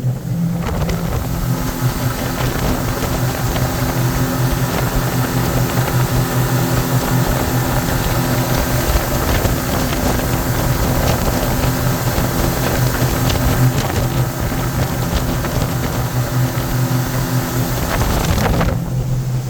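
A Glastron GTD 180 boat with a 150 HP Mercury outboard runs steadily on the water at constant RPM, a loud continuous engine drone with wind noise over the microphone throughout.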